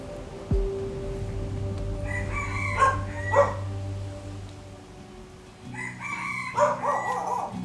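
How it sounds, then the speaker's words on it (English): Mountain roosters crow twice in the middle distance on Koh Samui, Thailand, one after another, then another crows again later, over a steady low hum. "And these are your mountain roosters."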